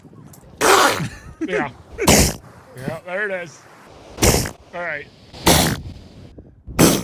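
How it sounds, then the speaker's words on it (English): Several loud, explosive elephant seal sneezes burst out one after another, close and forceful, with someone talking in between. "Those were the noises of elephant seals sneezing."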